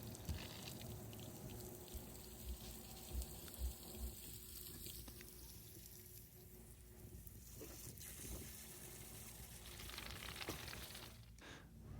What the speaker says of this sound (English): Water will begin to flow from the bypass hose.